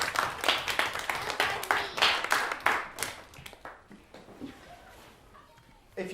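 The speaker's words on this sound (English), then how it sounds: "Now you applaud yourself for that" A room full of people applauding themselves: bursts of close, uneven hand clapping that is strong at first, then thins out and fades to scattered claps and quiet room noise.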